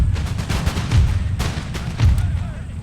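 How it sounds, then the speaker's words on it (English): Musket volleys crack out in Empire: Total War, a dense run of sharp gunshots with heavier booming bursts, loud and close, several rippling discharges overlapping across the battlefield. "Okay, now they get to shoot."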